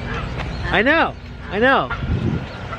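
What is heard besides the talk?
geese honking in a park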